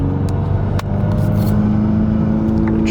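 A car running an iE Stage 1 Pro tune with pops and bangs makes a full-throttle pull, a loud, close, sustained engine drone with a few sharp crackles on top.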